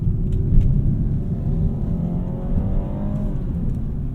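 A 2021 BMW 430i xDrive accelerates on a track with its transmission in sport mode, a steady engine rumble and rising drone heard from inside the cabin, continuous and fairly loud with no talking.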